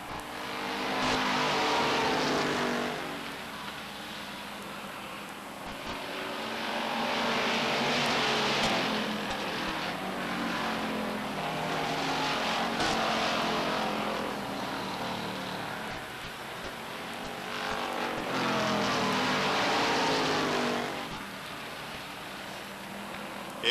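Stock cars race around the oval at Beech Ridge Motor Speedway during a 1991 weekly event, engines roaring loud and steady as packs sweep past in repeated swells with no talk over them.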